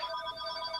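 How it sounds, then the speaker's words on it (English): A phone ringtone chirps briefly at moderate level with a bright, steady tonal ring, heard alone for under a second with no talk over it. "Sorry, that was my phone."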